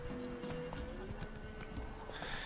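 Horse hooves clip-clopping in The Witcher 3 open-world game, with a whinny rising near the end over a steady in-game ambient hum; the hoofbeats are moderately loud and close.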